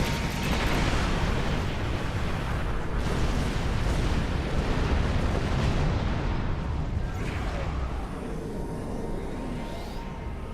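A warp core ejection explosion from Star Trek Online rumbles as a loud, sustained roaring blast that fills the whole stretch without letting up, with a sweeping tone fading in near the end.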